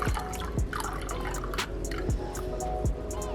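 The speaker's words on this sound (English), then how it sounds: "So now I'm going to take some coffee and pour it into this cup." Coffee is poured from a container into a cup at home, giving a series of close liquid drips and splashes with rising tones, repeated about five times in an uneven rhythm.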